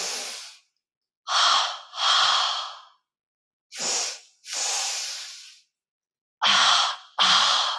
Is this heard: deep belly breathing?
yes